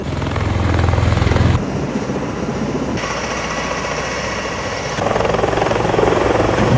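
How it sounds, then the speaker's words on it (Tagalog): A U.S. Marine Corps V-22 Osprey tiltrotor arrives on Corregidor Island, its rotors and engines producing a loud, continuous throbbing roar with a deep low hum that shifts in tone as it approaches. "Sakay ng U.S. Marine Corps B-22 Osprey, nagtungo si U.S. Ambassador Sung Kim at ilang U.S. military at State Department officials sa Corregidor"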